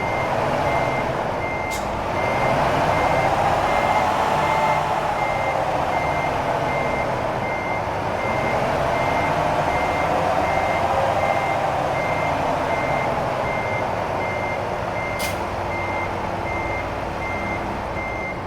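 A truck's reversing alarm beeps in a steady, evenly spaced series while backing a trailer into place in American Truck Simulator, over a constant low diesel engine rumble, with a couple of brief air-brake hisses.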